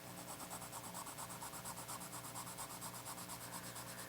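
Polychromos colored pencil rubbing across paper in steady, continuous back-and-forth strokes, a close, dry scratching rasp with no talk over it.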